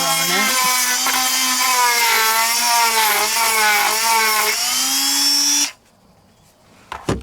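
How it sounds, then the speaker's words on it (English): A Dremel rotary tool fitted with a small drum sander whines steadily at high pitch while sanding wood, running for several seconds before cutting off, followed by a couple of faint knocks. "A Dremel with a little drum sander on it."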